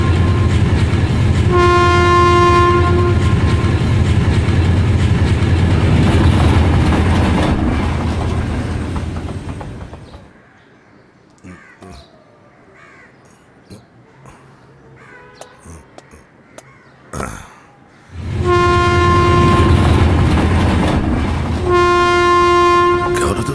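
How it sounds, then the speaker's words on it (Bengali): A train arrives with loud, close horn blasts at the start, then a quieter stretch of faint clatter and clicks, before the horn sounds loudly again at the end. "ওই যে ট্রেন এসে পড়ছে।"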